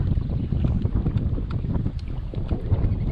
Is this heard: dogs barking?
no